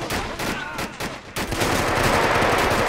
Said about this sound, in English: they all have SMGs!